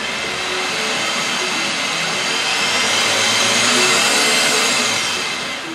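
An electric motor fitted to a converted Tuff-Bilt tractor runs at half throttle in gear, giving a loud, steady whine with a gentle swell in the middle before easing off.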